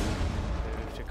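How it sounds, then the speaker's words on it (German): A grenade blast in the tactical shooter Rainbow Six, heard as a loud, dense, booming rumble that fills the whole short moment without any clear pause. "Wer wirft hier Granaten und warum?"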